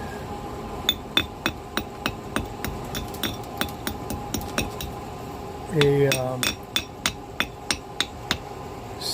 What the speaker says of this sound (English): scaling hammer, slag hammer that is, for getting this stuff off